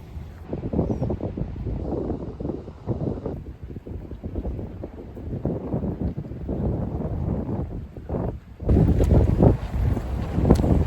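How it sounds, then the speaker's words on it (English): Strong gusty wind beside the water in Peru buffeting the microphone, a continuous low rumble that swells and dips, growing louder and rougher toward the end. "It's a bit windy"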